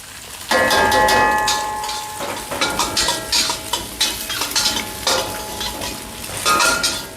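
Chopped garlic stir-fried in a pan in a terrace kitchen after egg: a loud sizzle bursts in, then rhythmic metal spatula scrapes and clinks against the pan, close and busy, with no voice over it.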